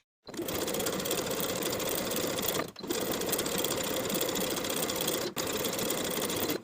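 A sewing machine understitches a facing to its seam allowance on a tank top, running in steady continuous stretches close up, broken by two brief stops.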